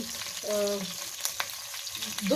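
Garlic and ginger frying in ghee in a pan, a short burst of close sizzling crackle with a brief tonal squeal partway through, and no talking.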